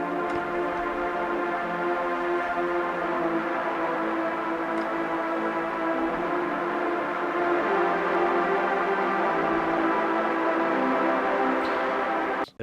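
A hard techno chord progression plays on a synth, with sustained stacked chords holding steady and loud, alone with no voices, before cutting off sharply at the end.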